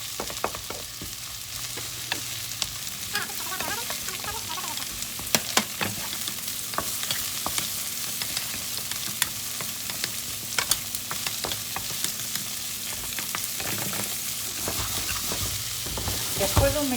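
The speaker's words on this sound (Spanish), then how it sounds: "Ahora echaremos el repollo. Seguimos moviéndolo." Cabbage stir-fried in a pan with barely any oil, a steady close sizzle with scraping stirring strokes and light clatter running throughout, no voices.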